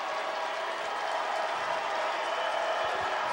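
A football crowd at an Idaho home game roars as a steady, dense wash of cheering and noise, loud and continuous with no distinct voices.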